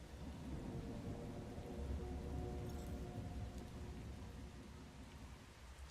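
Steady rain with rumbling thunder in the game Once Human, a dense continuous wash of rainfall with low rolling thunder underneath, heard alone with no talk.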